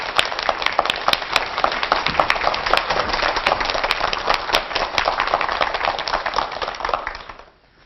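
Sustained applause from a lecture audience at a televised humanities talk, dense steady clapping that fades out at the end.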